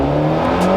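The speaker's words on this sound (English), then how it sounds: "Oh, a bit of a pop from the exhaust as well." Toyota AE86 Corolla revving under acceleration, a steady close engine drone holding through the short burst, with a faint brief pop near the end that is hard to pick out.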